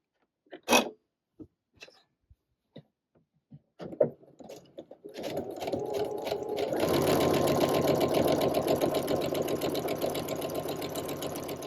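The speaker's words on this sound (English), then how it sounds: "So now that I've sewn a 1/4 inch from both sides of the lines" A sewing machine stitches quarter-inch seams through quilting fabric for half square triangles, starting with a few sharp taps and clicks before running into a loud, steady continuous whir close by.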